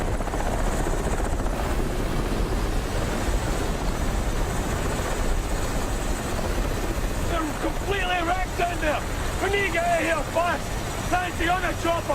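Helicopter rotor thudding loudly and steadily throughout, with shouted voices breaking in over the last few seconds during a volcanic-eruption emergency scene.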